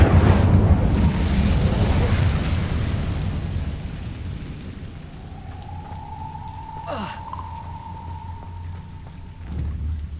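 Incendio fire spell cast in the video game Hogwarts Legacy: a loud roaring, crackling burst of flame that slowly fades into a quieter rumbling hiss, with a steady hum held underneath.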